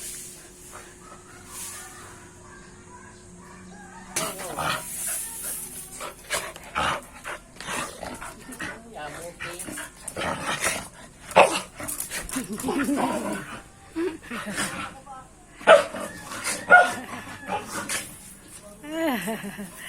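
Two small dogs, Snappy and Snowy, bark, pant and whimper in rough play, short sharp barks and heavy panting coming close and loud in bursts, with people talking over them.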